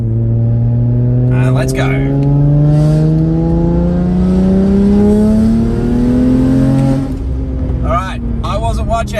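An MHD-tuned turbocharged car pulls hard in third gear, its engine note climbing steadily and loudly for several seconds before easing off, with a brief voice over the start.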